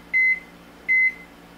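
An oven timer gives two short, clean electronic beeps, evenly spaced about three-quarters of a second apart, clear against a quiet kitchen background.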